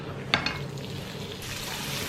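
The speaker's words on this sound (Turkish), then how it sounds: "Biraz bu rapsöyden tencereyi alıyorum ve sebzeyi kavuruyorum." Chopped vegetables sautéing in rapeseed oil in a pot, a steady close sizzle with a couple of sharp clinks of a spoon against the pot early on.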